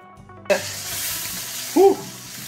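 Beer poured into a hot pan of dark gumbo roux bursts into a loud, hissing sizzle that carries on steadily, with a brief clatter or stir partway through.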